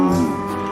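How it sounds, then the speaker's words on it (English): A cow moos in a single sustained, loud, low call that fades slightly toward the end, with no other sounds around it. "A cow goes Cow. moo,"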